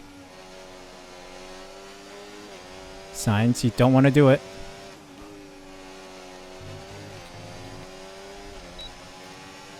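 Race cars in the F1 24 video game at Monza, a steady engine drone running throughout with a brief louder burst of revving in the middle, while someone talks over it.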